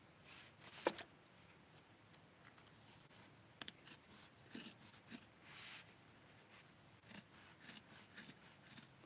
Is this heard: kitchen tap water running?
no